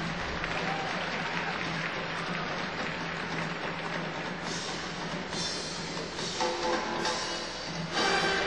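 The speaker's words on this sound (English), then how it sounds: "That eruption from the crowd here in Spokane is for Jason Brown." A large arena crowd in Spokane applauds and cheers for figure skater Jason Brown at the 2010 US Nationals, a dense continuous roar of clapping that swells in bursts toward the end.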